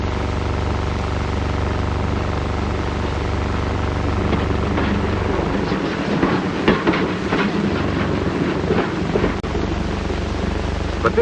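Freight cars being switched onto sorting tracks in a rail yard give a steady low rumble with rolling clatter and scattered metallic clanks, all close and continuous with no talking.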